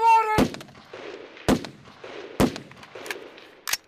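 Rifle shots during a US Army 11th Airborne Division combat exercise in Alaska, three sharp loud reports about a second apart with echoing tails, then a fainter fourth crack.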